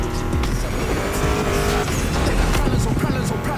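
A Mustang GT muscle car engine roars loud and steady in The Crew Motorfest racing game, with tire noise throughout and a voice faintly talking underneath.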